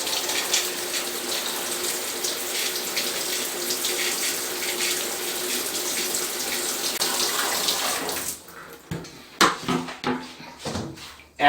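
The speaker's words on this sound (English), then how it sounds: "Rinse your suit down." Cold tap water runs steadily into a sink as a zentai suit is rinsed, a close, even hiss that stops after about eight seconds, followed by scattered wet handling sounds and knocks.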